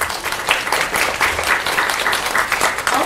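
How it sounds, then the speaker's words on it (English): Audience applause at a tech bootcamp info session in an event venue, a steady crowd of clapping hands sustained throughout, alone without talk. "let's give a round of applause to DAX."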